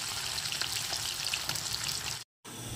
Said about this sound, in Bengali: প্রত্যেক কটা মাছ এরকমভাবে আমি ভেজে তুলে নেব